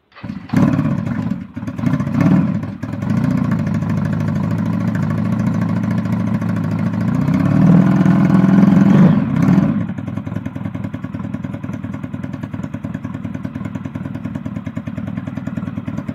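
A motorcycle fitted with Bronco exhausts starts up and runs close by, a steady throaty idle with a brief rise in revs before settling back to an even rumble.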